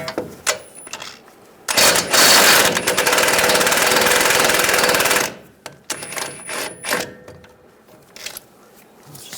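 A power tool, likely an impact wrench, loosens a 21mm nut on a front axle of a 2011–2018 Ram 1500, giving one loud sustained burst of rapid hammering for about three and a half seconds, with quieter clanks and workshop handling before and after.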